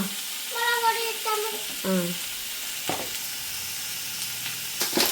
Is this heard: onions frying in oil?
yes